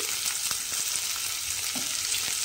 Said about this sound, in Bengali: পেঁয়াজটা আমি এখানে সুন্দর করে একটু ভেজে নিচ্ছি